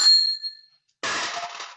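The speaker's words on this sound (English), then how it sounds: "Every time you hear a bell ring, it means that some angel's just got his wings." A bell rings once as a stage play sound effect, its bright tone fading out, then a burst of hissing noise follows after a short silence.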